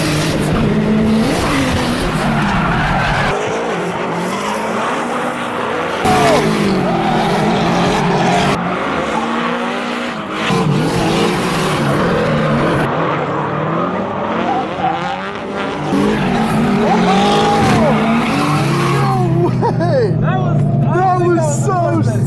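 Drift cars at a SuperD Northwest Trials event roar loudly and continuously, engines revving hard with tires squealing and skidding through the slides, heard close up from inside the car.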